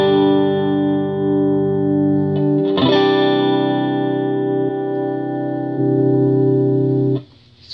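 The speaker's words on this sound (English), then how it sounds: "this is my clean tone. It's my Telecaster into a matchless SE Mini." A Telecaster electric guitar played clean through a Matchless SE Mini amp, sustained chords ringing loud and close with a few chord changes, no talking.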